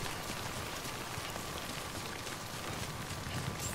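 Steady rain pours down in the video game Death Stranding, a dense, even hiss of drops on surfaces that holds without a break throughout, with no voices.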